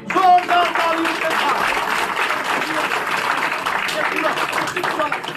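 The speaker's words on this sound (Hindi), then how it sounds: "जोरदार तालियों के साथ" Loud, sustained applause fills a party office as a Pahari leader is welcomed into the BJP with a shawl, steady dense clapping with a voice faintly underneath throughout.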